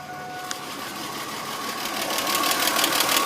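A 1999 Chevy Venture engine with 214,000 miles and coolant leaking into the oil runs with a fast, steady clacking tick over a rough hum, growing slightly louder and closer.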